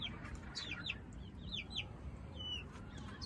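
A rooster among hens on a farm, soft clucks and short chirping calls scattered over a steady low background, fairly faint and with no talking.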